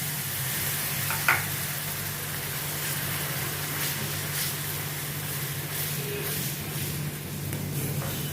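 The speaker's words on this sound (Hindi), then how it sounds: "अभी इसमें मैं ये ग्रेट किया हुआ टमाटर डालती हूँ।" Grated tomato hits hot oil in a frying pan, giving a steady loud sizzle with scraping stir sounds throughout, close by and continuous without talk.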